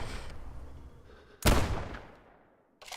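A single loud shotgun blast in the video game Rising Storm 2: Vietnam, with a long, echoing tail that fades out, followed by a brief softer burst at the very end.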